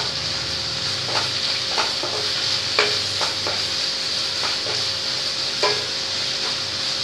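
A sliced medium tomato and onion sauté in a pan with a steady, close sizzle, while a spoon scrapes and taps the pan now and then in a loose, uneven rhythm.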